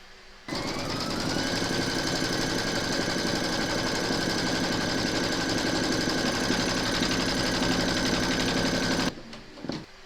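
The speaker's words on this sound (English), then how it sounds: "Pop your hoop into your machine and stitch round number 2 to secure it." An embroidery machine stitches a securing round through batting taped over a hooped outline for a notebook cover, a steady close, fast mechanical chatter that runs continuously for several seconds and then stops abruptly.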